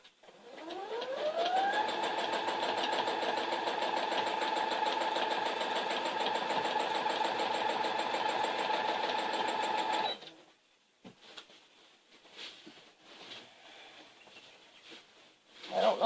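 Sewing machine doing free motion quilting, a motor that spins up quickly into a steady close whir for several seconds, then stops, leaving quiet handling noises.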